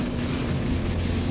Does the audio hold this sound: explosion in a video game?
yes